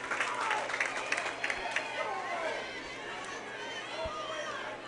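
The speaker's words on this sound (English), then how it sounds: "Loud cheers from the East cheering section." Crowd cheering and clapping in the stands at a high school 6A state championship softball game, a steady roar of voices with scattered claps, a few sharper claps early on, and a commentator talking over it.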